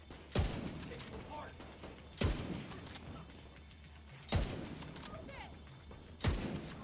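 Gunfire in the video game The Division 2 comes as four separate sharp bursts about two seconds apart, each loud and cracking, with a quieter mechanical background between them.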